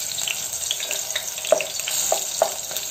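Chopped green chillies frying in hot oil, a continuous crackling sizzle with several sharp pops and spits as pieces jump in the pan, close and alone without talk.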